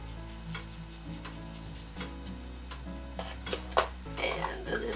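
Yellow and orange pastel being mixed into polymer clay, soft close rubbing and scraping in small strokes over a steady low hum, growing a little busier toward the end.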